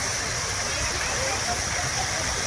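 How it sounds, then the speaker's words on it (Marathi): A fountain at Goda Park in Nashik splashes steadily, a dense, even hiss of falling water with no breaks, heard up close. "प्रॉपर कारंजा तयार झालेला आहे."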